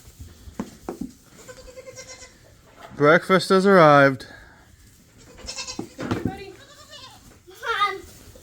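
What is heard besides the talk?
goats bleating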